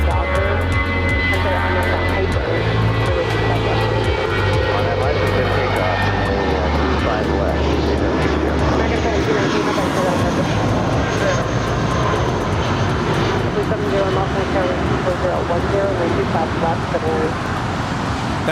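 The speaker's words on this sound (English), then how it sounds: "That was American 1719 departing to Vancouver. It's an Airbus A319." American Airlines Airbus A319 departing Los Angeles International for Vancouver, a loud, close jet engine roar sustained throughout with a low rumbling drone, while a person talks over it.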